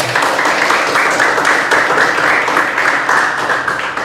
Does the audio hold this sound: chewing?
no